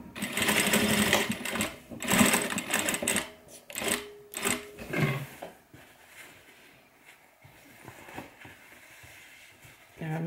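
Sewing machine stitching a messenger bag, a close rapid mechanical whir in short runs that slows and stops partway, followed by quieter rustling and handling sounds.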